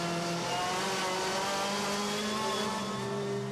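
Citroën touring cars racing in the WTCC at Shanghai, engines droning loudly and holding a steady pitch that rises slightly, with a faint tire squeal in the mix and no commentary heard.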